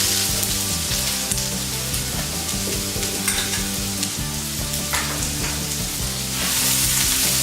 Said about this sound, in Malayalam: എണ്ണ ചൂടായിട്ടുണ്ട്, അതിലേക്ക് കുറച്ച് കടുക്. ഈ കടുക് പൊട്ടി തുടങ്ങിയിട്ടുണ്ട്